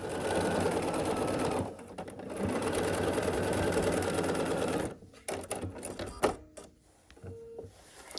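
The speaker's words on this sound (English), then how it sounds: "we'll sew this other seam" A sewing machine stitches a seam on a quilt block, running in a steady whir for several seconds, pausing, then carrying on at length before giving way to quieter scattered handling sounds.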